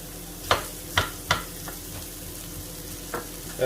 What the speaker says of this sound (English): so that's the onions almost sauteed off. So we're going to get our packet of lentils and barley or whatever it is. We'll put that into the pan